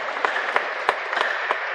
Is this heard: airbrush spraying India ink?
no